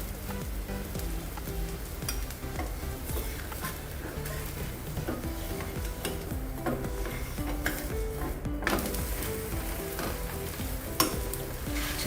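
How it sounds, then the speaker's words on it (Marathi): Mixed vegetable paratha frying in ghee on a pan gives a steady, dense sizzle up close, with occasional scraping and clinks from turning it and no talk. "आता यावर आपल्याला तूप सोडायचंय"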